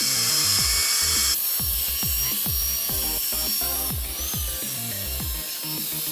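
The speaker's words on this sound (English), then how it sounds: "You want to make sure you keep the drill moving" A power drill with a polishing pad whirs steadily against a plastic car headlight lens, a loud continuous high whine with a rhythmic low thumping as the pad moves across the surface.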